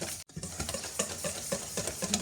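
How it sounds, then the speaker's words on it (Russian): Slightly melted butter is whisked by hand in a bowl, without an electric mixer, for baking biscuits. It makes a close, steady, rhythmic scraping and slapping with quick regular strokes and a brief pause near the start. "Взбиваю масло"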